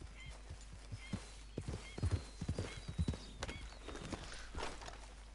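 Horse hooves clip-clopping at a walk in an even rhythm in Red Dead Redemption 2, fairly quiet over faint background ambience.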